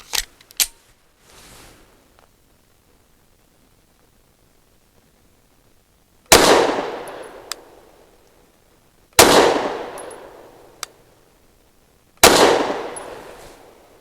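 Three loud, sharp gunshots from a Canik METE MC9 pistol firing PMC 124 grain rounds outdoors, spaced about three seconds apart with ringing decay and small metallic ticks, after a couple of faint clicks.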